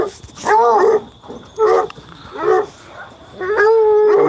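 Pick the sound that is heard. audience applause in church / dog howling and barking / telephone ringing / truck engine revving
dog howling and barking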